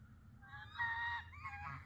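Farmyard geese honking on a snowy day, two or three quick nasal honks in a row, fairly close but not loud, with no one speaking.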